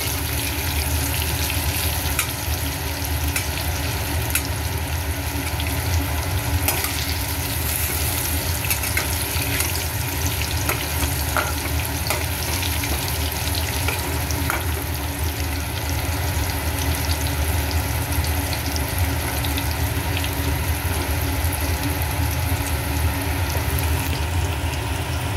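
Frying in hot oil for a Bengali pui shak and catla fish chhyachra gives a continuous, loud, even sizzle and crackle that runs unbroken for the whole stretch, with no voices.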